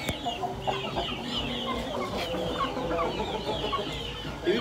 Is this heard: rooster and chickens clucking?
yes